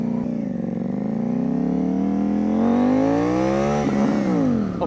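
A new motorcycle accelerates hard, its engine note climbing steadily in pitch as it revs up, a loud, close, rising whine with a brief shift near the end, with no talking.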